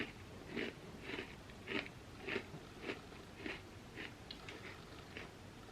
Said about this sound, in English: I'm just gonna eat the Oreo.